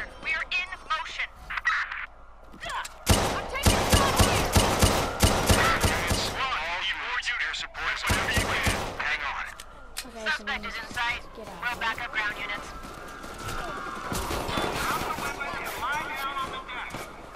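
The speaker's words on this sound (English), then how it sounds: "Shots fired" Gunfire in a video game: bursts of rapid, sharp cracks come in several volleys, the loudest between three and seven seconds, with a voice talking throughout and more scattered shots near the end.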